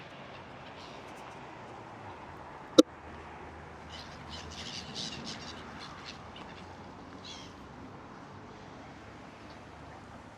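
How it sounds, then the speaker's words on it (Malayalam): Birds chatter and call at a flooded riverside where they are being fed, a faint cluster of chirps and quacks in the middle, with one sharp knock early on over low ambient noise. "ആരോ കിളികൾക്കൊക്കെ ഫുഡ് കൊടുക്കുന്നു"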